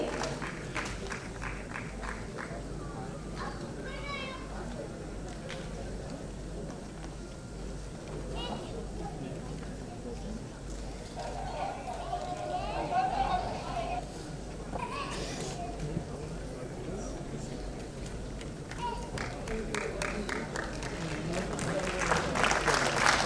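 Applause from the audience at the Dadasaheb Phalke Award 2017 ceremony, a steady wash of clapping that rises toward the end, with an announcer's amplified voice speaking over it.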